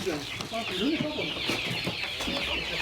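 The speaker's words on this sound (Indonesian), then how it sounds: "Kita lihat kandang ayam kita, Pak." Chickens clucking inside a chicken coop, a steady chorus of close, moderately quiet clucks and calls over a noisy background.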